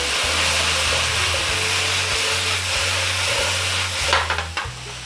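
Vegetables sautéing in a pan, a steady broadband sizzle that runs unbroken and fairly close, ending in a few sharp clinks and scrapes near the close, with no voices.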